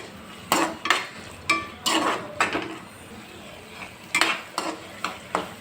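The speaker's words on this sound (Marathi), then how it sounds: "आता हे सगळे व्हेजिटेबल्स आपल्याला फक्त 1 मिनिट परतवून घ्यायचे." Vegetables for soybean chili being stir-fried in a pan, with a spatula scraping and clattering in quick repeated bursts against a faint sizzle, close and fairly loud, no talk.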